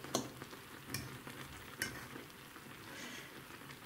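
Chicken drumsticks simmering in a pan of cream sauce, a low soft bubbling sizzle punctuated by a few scraping stirs and utensil clinks, with no one talking.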